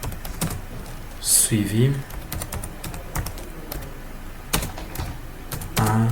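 Keys clatter on a computer keyboard as data is entered in SPSS. Quick bursts of close clicking come in uneven runs, and a French-speaking voice talks briefly between them.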